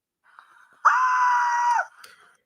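A voice imitates a scream of pain from eating hot peppers with one sustained, strained, high-pitched yell lasting about a second. Before and after it there is only faint vocal noise.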